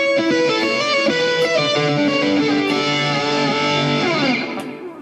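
Arpeggiated electric guitar riff, with chord tones ringing into a clear melody under an effects-processed tone; steady, close and loud, played alone and fading slightly at the end.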